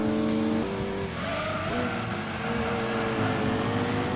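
Road car drifting around a Toyota GT1 in Gran Turismo 2, with a steady engine roar and tires squealing through the slide, loud and close throughout.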